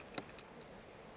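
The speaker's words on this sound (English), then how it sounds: "I am tired of losing my keys." A bunch of keys jangles in three quick, faint metallic chinks within about half a second, close by in an otherwise quiet space.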